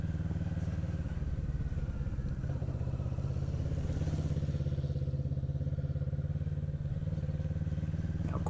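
A motorcycle circles clockwise at steady medium speed on a 40-foot circle, its engine droning continuously with a low, even hum and faint clatter, close and unbroken throughout.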